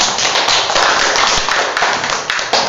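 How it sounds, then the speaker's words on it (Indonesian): Applause from a group of students in a classroom during a teaching performance test, a dense, steady patter of many hands clapping close by for nearly three seconds with no talking. "tepuk tangan untuk Bukan."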